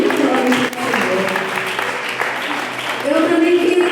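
A church congregation at an evening prayer service claps steadily as a blended wash of sound, with voices and singing running over the clapping throughout.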